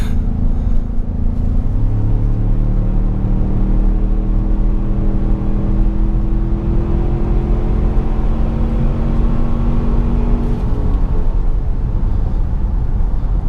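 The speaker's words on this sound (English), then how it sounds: "Most of the sound that you're hearing is the induction noise" Twin-turbo engine of a 2017 Ford Explorer Sport SUV droning steadily inside the cabin, with rising induction whoosh and harmonic tones climbing as it accelerates, then settling; loud and continuous, no talking.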